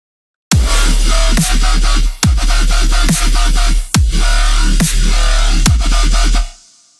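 A heavy brostep bass patch built in the Serum synth, with loud, growling distorted notes over a deep sustained low end, restarting in rhythmic hits about every second before a short fading tail.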